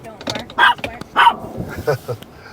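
A dog barks a few times inside a vehicle at a corn stand, the sharp barks mixed with people talking nearby.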